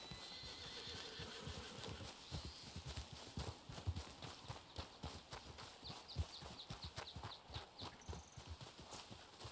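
Quiet, rhythmic horse hoofbeats clip-clopping at a steady pace over faint background ambience in the video game Our Lands.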